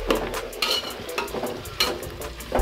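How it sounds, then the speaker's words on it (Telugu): Vegetables for dum pulao frying in hot oil, a dense close sizzle broken by periodic scraping and stirring strokes against the pot, steady and fairly loud, no voices. "ఫ్రై అయ్యాయి బాగా ఆయిల్లో"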